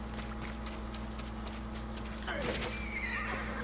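A horse in the video game Ghost of Tsushima whinnies with a rising, shaky neigh over clip-clopping hooves and a steady game soundscape, with a voice talking underneath.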